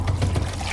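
Water flows out from under a closed door, a short burst of splashing, gurgling liquid that trickles and pours unevenly at close range, with no voices during it.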